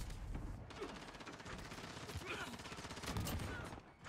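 Rapid automatic gunfire in Call of Duty Modern Warfare, a steady stream of close shots with chaotic battle noise behind it, fairly quiet overall.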